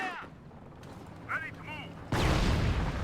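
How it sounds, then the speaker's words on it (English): A mine going off in the real-time strategy game Company of Heroes, a sudden loud rumbling blast in the final second, after quieter battlefield noise and brief tonal game sounds. "Mine also going off"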